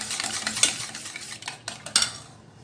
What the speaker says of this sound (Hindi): अब एक बार फिर इसको विस्क की मदद से फेंट लेंगे।